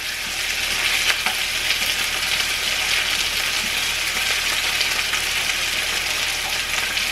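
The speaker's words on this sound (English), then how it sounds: "you're going to add your garlic right into the center of the pan. You're going to give it a stir." Garlic added to the center of a hot pan, in a chicken breast dish, gives a loud, steady, hissing sizzle throughout, with faint stirring beneath it and no talk.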